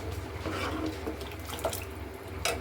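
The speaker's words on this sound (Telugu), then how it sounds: "ఇంకా ఇందులో వాటర్ పోసుకొని కొద్దిగా మసాలా వాటర్ అనేది పోసేసుకుందాం" Masala water is poured into a pan of snail curry, a steady splashing pour of liquid running for a couple of seconds with a few brighter splashes.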